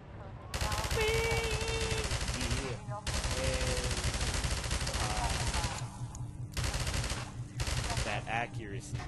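Gunfire in the shooter game Half-Life 2, sustained loud automatic bursts with brief gaps, some game voices faintly mixed underneath.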